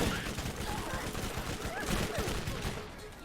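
An explosive SMG in Borderlands Remastered fires in a dense, rapid stream of shots with popping blasts mixed in, continuous and loud for the whole stretch.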